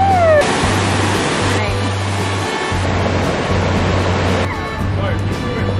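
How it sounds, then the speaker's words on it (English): Europe's largest waterfall roars loudly and close, a constant broadband rush of falling water with a low steady hum running underneath. "This is supposedly the largest waterfall in Europe."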